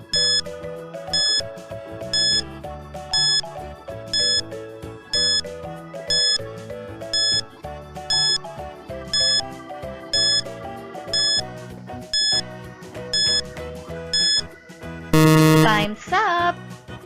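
A quiz countdown timer beeps in a steady pattern, about once per second, over a looping music bed, then closes with a brief burst of louder, shifting tones.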